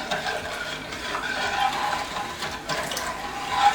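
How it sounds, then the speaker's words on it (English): Molasses and sugar being stirred into about four liters of water in a one-gallon growler, a steady swishing, sloshing liquid sound at close range with no talking. "So I just want to give this a stir."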